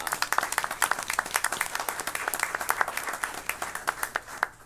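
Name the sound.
board meeting audience applause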